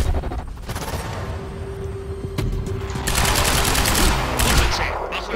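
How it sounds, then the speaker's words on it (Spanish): Gunfire in the video game Quantum Break, a loud burst of shots over a dense, noisy game mix with a low hum, growing louder and busier toward the end. "¿Me han matado de dos disparos?"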